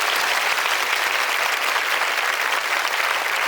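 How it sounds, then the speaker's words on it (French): Studio audience applause on a French-language TV show, a dense and even roar of many hands clapping at a steady level, close and sustained. "Applaudissements."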